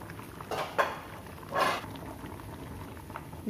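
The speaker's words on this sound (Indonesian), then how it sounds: "juga rebus rebus cabai, terus rebus terong." Chili peppers and eggplant boil in a pot, giving a soft, steady bubbling broken by a few brief, louder gurgling bursts, with no voices.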